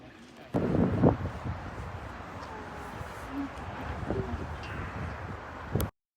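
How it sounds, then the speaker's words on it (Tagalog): Wind blows outdoors in Gifu, Japan, a steady broadband rush with buffeting gusts against the microphone, faint background sounds, and a louder gust near the start and near the end. "Mahangin pa."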